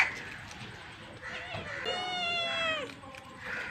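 A cat meows in a home kitchen, one drawn-out, wavering cry in the middle, moderately close, with a softer mew at the start and quiet background sounds.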